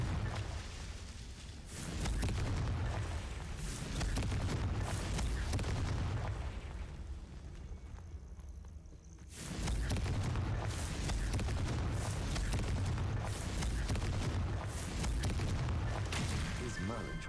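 Repeated Confringo fire-spell blasts from Hogwarts Legacy, dense booming bursts with a brief lull in the middle before the explosions resume, loud and sustained across the whole stretch.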